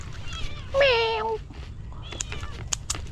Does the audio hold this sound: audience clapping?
no